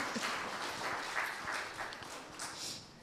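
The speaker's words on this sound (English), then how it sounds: "that's another round of applause right there" A room full of people in a church claps in steady, faint applause that carries on throughout, heard from a distance.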